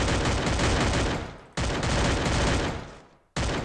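Gunfire in the video game Free Fire: dense, loud bursts of rapid automatic shots in two long volleys that fade out, followed by the start of a third burst.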